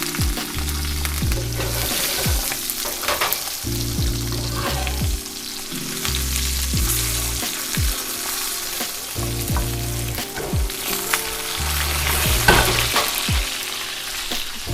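A ribeye steak sears in a cast iron pan with thyme, shallots and garlic, a continuous loud sizzle and spatter over a low, repeating bass-heavy musical line.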